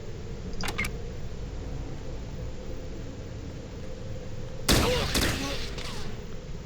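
Gunfire rings out in the Fallout Tactics video game, a couple of sharp shots early on and a louder, longer burst of firing later over a low steady background hum.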